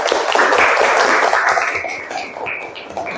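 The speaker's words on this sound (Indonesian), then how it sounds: "Tepuk tangan dulu" Classroom applause for a student group's presentation in an Islamic creed and ethics lesson: many hands clapping together in a dense, steady burst that slowly thins out toward the end.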